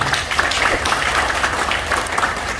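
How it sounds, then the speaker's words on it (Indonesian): An audience applauds for an anti-riba community at a debt-free finance event, a dense, steady wash of many hands clapping that stays even and fairly loud throughout. "Tepuk tangan untuk komunitas ini"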